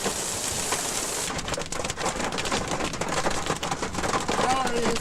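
A hailstorm in Gilgandra in December 2004 brings rain and hail driven by gusting winds of about 45 to 50 knots. The roar is loud and continuous, with sharp impacts and gusts rising and falling.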